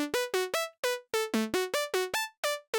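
A plucky saw synth in Serum, filter cutoff lowered to 192, taps out a quick run of short notes in a bouncy rhythm, each clipped and bright, with nothing else playing.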